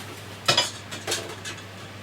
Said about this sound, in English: Just going to pop that in the sink.